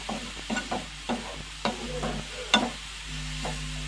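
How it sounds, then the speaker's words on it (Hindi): A spoon stirs suji pitha batter as sugar melts in a pan, giving a few irregular scrapes and taps over a soft, steady sizzle, close and fairly quiet, with no talking. "जब चीनी अच्छी तरह गल जाएगा तब तक हमें चलाते रहना है बीच बीच में।"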